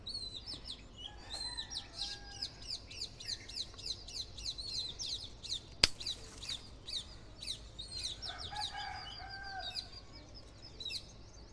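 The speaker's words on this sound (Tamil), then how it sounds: "இந்த பறவைகளோட சவுண்டெல்லாம் கேட்கல அவ்வளோ ஒரு ஆனந்தமாக இருக்குங்க" Birds chirp and tweet continuously in quick repeated bursts in a rose garden, moderately close, with a single sharp click partway through and faint clucking underneath.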